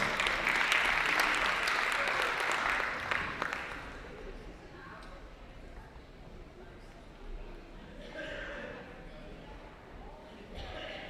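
An audience at a Ramadan festival presentation claps loudly for a few seconds, then the applause fades into scattered claps and a murmuring crowd, with brief speech after.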